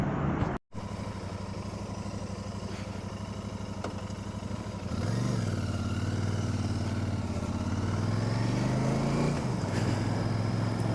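A new Royal Enfield Super Meteor 650 motorcycle being ridden, its engine rumbling steadily, then rising in pitch as it accelerates through a gear change, with a brief dropout near the start.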